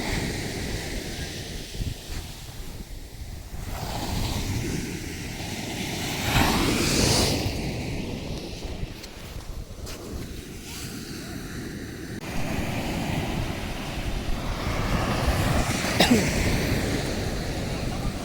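Ocean surf washes steadily along a shore at sunset, a broad continuous roar of breaking waves that swells and recedes, mixed with wind buffeting the microphone.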